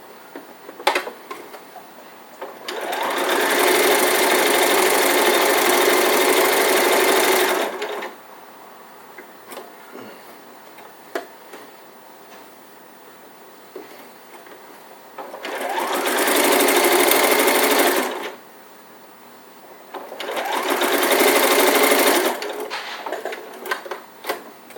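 Close, loud bursts of a home sewing machine stitching an elf hat seam closed: three runs of several seconds each, separated by quiet pauses with small handling clicks.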